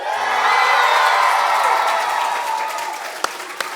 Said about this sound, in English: the Urmston Junior School deserve a bit of a big cheer for yourselves